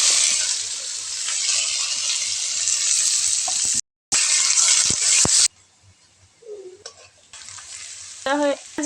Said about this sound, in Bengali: ফোড়নটা ভালো করে ভেজে নেব। দিয়ে দেব পেঁয়াজ কুচি।